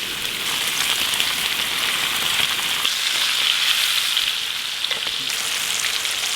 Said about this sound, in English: Get your fish into that hot grease as soon as it is ready.